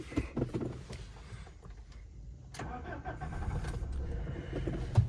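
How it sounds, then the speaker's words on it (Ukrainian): A 2008 Subaru Forester 2.0 diesel engine cranks and catches, then settles into a steady low idle rumble, fairly quiet and close, with a few clicks at the start. "Запустимо автомобіль, покажемо, як працює двигун, бо працює він просто чудово."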